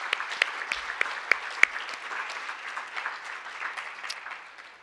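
A conference audience at a glaucoma patient summit claps steadily for the foundation staff, a dense even round of applause with a few sharper individual claps near the start, fading slightly toward the end.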